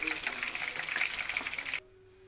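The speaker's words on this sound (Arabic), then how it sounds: "هنسيبها بقى كده تتحمر وبعد كده نشيلها" Chicken pieces fry in hot oil in a home kitchen pan, a bright crackling sizzle with popping spatters that runs steadily and then cuts off abruptly near the end, leaving faint hum.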